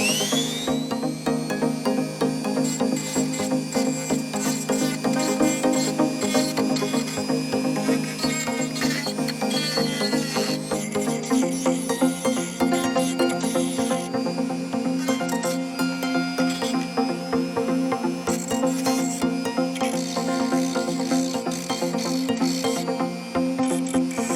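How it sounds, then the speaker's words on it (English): A rotary emery wheel grinds and cleans the contacts of an old car horn, giving a loud, continuous whirring, high-pitched scraping drone that shifts in pitch as pressure changes, with no talking. "we're going to attack these contacts with an emery wheel, be a bit more aggressive in our cleaning"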